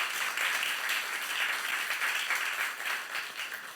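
Church congregation at a youth-group sermon claps steadily throughout, a dense, even patter of many hands at moderate level with no voice above it.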